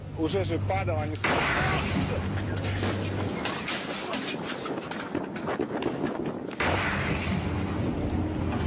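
A meteorite about twenty metres across bursts high in the atmosphere, rendered as a loud, sustained roaring blast with crackling rumble and sharp surges, mixed under a narrator's voice and music.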